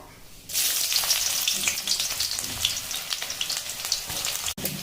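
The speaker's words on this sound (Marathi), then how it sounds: "तेल गरम झाल्यावर मग त्याच्यात थोडीशी मोहरी टाकली आणि नंतर कांदा टाकून घेतला" Mustard seeds and onion hit hot oil in a kadhai and burst into a loud, close sizzle that holds steady with crackling spatter and a few stirring sounds, with no voices.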